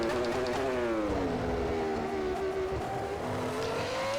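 A 1999 Ferrari Formula 1 car from the WCP mod in the rFactor 2 racing game, its high-pitched engine screaming loudly and continuously, with the pitch dipping and rising again as it shifts and revs.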